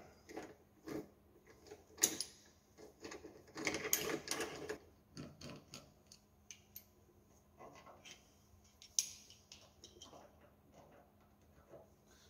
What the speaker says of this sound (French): c'est une douille de 12 mm. Donc on va dévisser tout simplement.